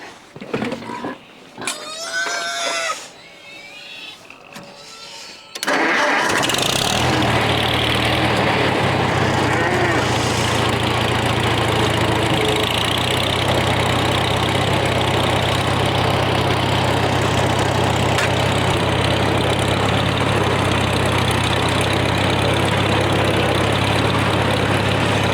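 A small farm tractor cranks and fires up, then settles into a steady low rumbling idle that runs on alone and close, after a few seconds of clicks and handling noises.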